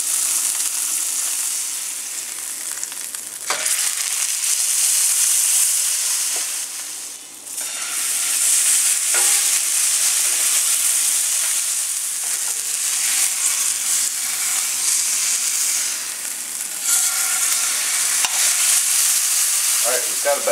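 Mojo-marinated pork tenderloin sears in a hot pan with a loud, continuous crackling sizzle that dips briefly as the meat is turned, then surges back at full strength.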